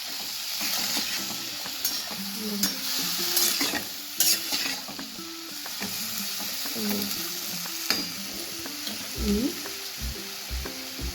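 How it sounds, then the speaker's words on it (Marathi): Ridge gourd curry being stirred with masala in a pan, continuous close sizzling under repeated scraping and clattering strokes of a spoon against the pan, no talk. "चांगलं हलवून घ्यायचं आहे आपल्याला, म्हणजे मसाला सगळीकडे लागला पाहिजे आपला."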